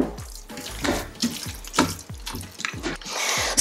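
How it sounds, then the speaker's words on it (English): Water running from a tap and pouring into a Ninja Foodi pot, a steady splashing stream with rhythmic gurgling pulses, close and alone. "Let me put some water."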